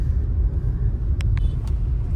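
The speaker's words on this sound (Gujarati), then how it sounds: "તો પાણી ભરેલા જગનો ટેમ્પો જાય છે આખો ભર્યો જ છે" A tempo truck loaded full of water jugs rolls past with a steady low rumble, its engine and road noise continuous throughout, with a few brief light clicks near the end.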